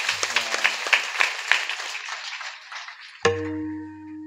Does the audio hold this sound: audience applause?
yes